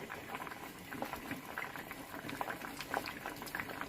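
Dal and beans boiling in a pot for bassaru, a bubbling that is soft, continuous and patters quietly, with tiny pops scattered through it.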